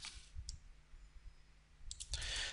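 Mouse clicks from a computer user working in AutoCAD Plant 3D software: a couple of soft, close clicks near the start, then a few more followed by a louder burst of handling noise at the end.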